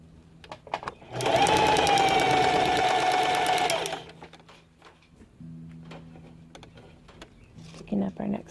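Sewing machine stitching feathers onto a ribbon runs in one steady, rapid burst of close, buzzing stitches for about three seconds, then stops, followed by quiet handling sounds.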